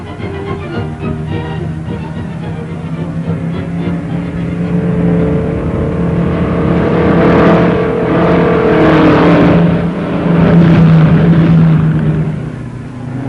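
Race cars roar around a track at an auto race, engines droning steadily and swelling louder as they pass, with a sustained mechanical whine and no talking.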